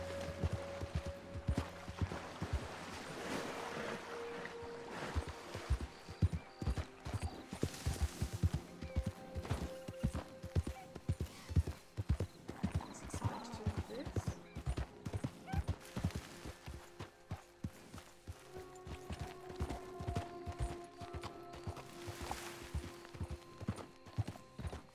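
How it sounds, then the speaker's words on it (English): Horse hooves clip-clop steadily in Red Dead Redemption 2, an open-world western video game, with a rhythmic trot of hoof falls and an occasional snort or whinny, fairly quiet against an ambient backdrop. "Really ungraceful way to get up your horse, Arthur."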